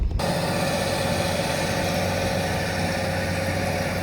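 A tractor pulls an Elita subsoiler through hard farm ground after a black oat harvest, giving a steady, loud engine drone with constant low rumble and vibration throughout.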